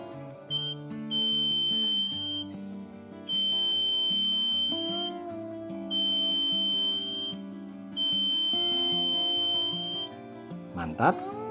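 On an XL4016 9A buck converter board, a shorted output sets off the protection buzzer in four long piercing beeps separated by short gaps, over background music and some voice activity.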